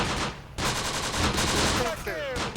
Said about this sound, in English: Tank is giving some nice machine gun fire